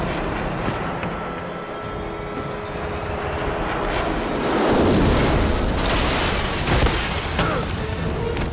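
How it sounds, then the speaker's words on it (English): A helicopter's low rumbling drone swells closer over several seconds in a video game cutscene from James Bond 007: Blood Stone, amid deep booming and steady background noise, loud and building toward the middle. "Helicopter inbound."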